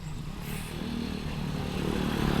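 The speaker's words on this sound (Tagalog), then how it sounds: "Ganda ng motor oh." A motorcycle passes close by, its engine growling and building briefly in a short burst.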